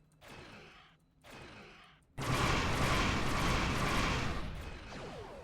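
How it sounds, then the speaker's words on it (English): In Star Trek Online, torpedoes strike a ship: a couple of short muffled thumps, then a loud sustained roaring blast that slowly fades. "keep a watch on torpedoes, especially big ones"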